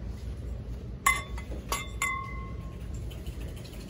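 Heavy, thick-bottomed drinking glasses from a Dollar Tree shopping haul clink together as they are handled, giving three short, bright chinks spaced about half a second apart, close up in an otherwise quiet room.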